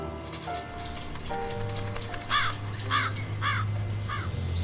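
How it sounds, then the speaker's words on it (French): Carrion crow perched on a branch gives four harsh, evenly spaced caws at moderate distance, over steady rain and a low background drone. "une corneille est posée sur une branche"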